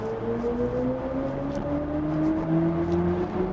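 The BMW iX3 electric car's synthetic Iconic Sounds Electric drive sound, a smooth hum, rises steadily in pitch like an engine accelerating in Sport mode, heard from inside the car over road and wind noise.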